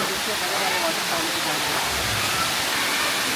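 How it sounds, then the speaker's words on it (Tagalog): A small natural waterfall in the Philippines gives a steady, loud, close rush of falling water that fills the whole clip without a break. "So, this is the mini falls."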